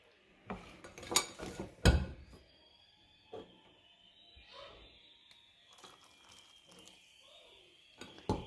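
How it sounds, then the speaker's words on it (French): A utensil clinks and scrapes against a bowl while crêpe batter is mixed with water and yeast, a few sharp knocks early then softer intermittent stirring taps. "Et on mélange encore pendant 3 minutes."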